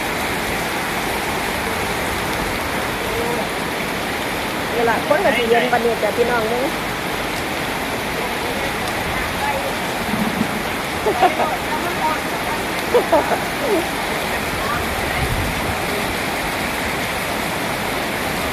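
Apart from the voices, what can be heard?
heavy rain falling, street flooding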